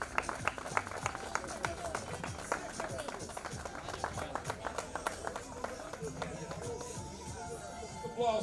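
A crowd claps steadily as cycling teams are saluted at the closing stage ceremony of the Grande Prémio JN race in Porto, a dense patter of many hands heard somewhat distant, with an announcer speaking over it throughout.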